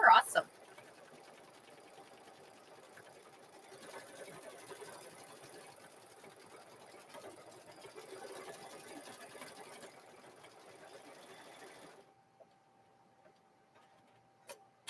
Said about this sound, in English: This is quilting fairly quickly, y'all